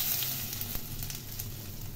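Bay leaf, cumin seeds and asafoetida sizzle steadily in hot oil, a close, continuous frying crackle with no talking.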